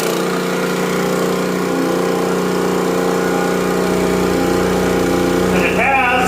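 A small pump engine runs steadily while water is pumped out of an old water well, a loud continuous drone with a strong low hum throughout and no break.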